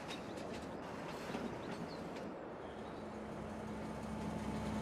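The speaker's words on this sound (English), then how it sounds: "I hear the train." A train in Farming Simulator 22 rumbles past with a steady low roar and faint rhythmic clatter, as a droning tone emerges toward the end.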